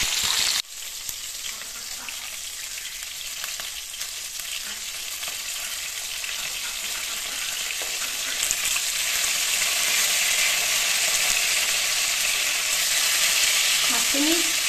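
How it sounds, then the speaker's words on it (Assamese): Fish frying in a pan, a strong, continuous sizzle that starts abruptly and holds steady, growing slightly louder over time, with no talking. "এনেকৈ মাছখিনি মই প্ৰথমতে ফ্ৰাই কৰি লওঁ"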